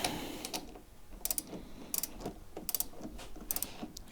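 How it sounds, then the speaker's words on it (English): A torque wrench tightens the cylinder head bolts on a two-stroke engine fitted with a CNC performance head, set to 27 newton metres. Quiet ratchet clicks come in small clusters, each pull producing a few sharp ticks, close by with no speech. "So we'll torque these up now."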